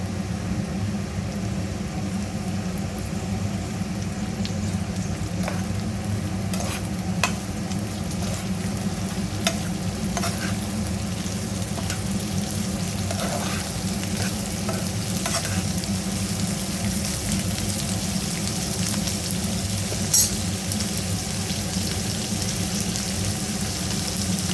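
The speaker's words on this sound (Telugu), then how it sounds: "దూరగా వేగేసి ఇట్లా దూరగా వేగాక ఆనియన్స్, కాకరకాయ పీసెస్ వేసేసుకోవాలి." Bitter gourd pieces and sliced onions frying in hot oil in a pan, a continuous dense sizzle with occasional stirring scrapes and clicks, close and alone for the whole stretch.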